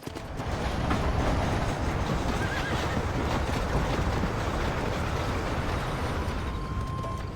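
A horse in the Red Dead Redemption video game neighs over a steady dense rumble of hoofbeats and movement, continuous and fairly loud throughout, with no talking.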